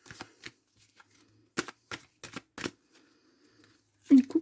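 A deck of oracle love cards being shuffled by hand, several short crisp riffling bursts separated by pauses, close and fairly loud, with someone speaking French softly in between.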